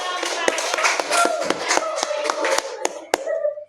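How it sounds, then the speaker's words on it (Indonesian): A burst of scattered clapping from a small classroom group, uneven and fairly close, with murmuring voices underneath, tapering off at the end. "Silakan tepuk tangan untuk kelompok"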